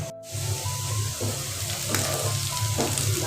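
Bitter gourd with shrimp fries in a pan, a dense steady sizzle and crackle heard close up, with a few soft stirring strokes and no voices.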